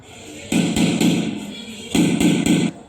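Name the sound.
knocking on a door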